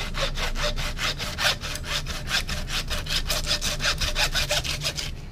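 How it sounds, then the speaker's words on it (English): A bone saw cuts through a pork chine bone on a heritage breed pig carcass, giving a steady, rhythmic rasping of about twenty close, loud back-and-forth strokes with no voices. "I'm gonna take the saw, and I'm just gonna score. I'm gonna cut through the chine bone."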